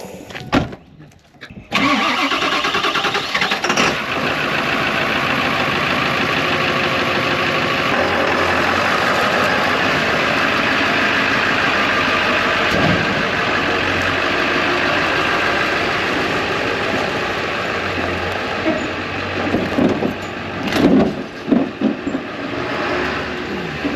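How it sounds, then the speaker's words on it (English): A Ford F550 truck engine cranks and fires, then settles into a steady, loud idle that runs for about twenty seconds, with a few louder bumps near the end. "Let's start this truck up, shall we? The F550."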